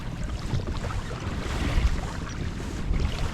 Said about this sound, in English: Just the sound of sea lions and crashing waves.